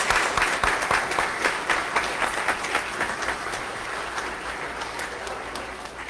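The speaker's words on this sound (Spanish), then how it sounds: "Démosle un fuerte aplauso a Carlos" A church congregation at Sunday Mass claps loudly for Carlos after his baptism, a dense, sustained round of applause that gradually eases off toward the end, with no talk over it.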